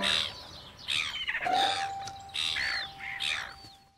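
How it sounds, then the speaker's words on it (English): Cartoon seagulls give a string of squawking, chirpy calls in short bursts over about four seconds, near and clear with a thin tone behind them. "Hello there, seagulls."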